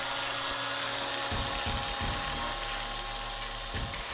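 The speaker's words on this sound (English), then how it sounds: "and sanding." Sanding a cured resin patch on a rusted Mazda Miata body: a close, constant power-tool whir with a gritty rasp that swells when the sander bites into the surface.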